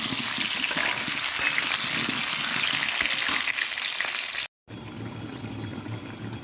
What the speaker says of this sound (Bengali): একটু ভেজে নিচ্ছি নুন দেবো আর হ্যাঁ, মশলাটা কষাবো